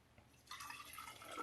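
Homemade veggie broth is poured into a container to rinse out residue, starting as a faint drip and swelling into a steady liquid pour, close and soft.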